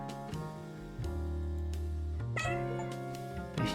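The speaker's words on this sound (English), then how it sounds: "They sound like actual cats." Cats in a hidden object game meow several times over looping background music, clear and close.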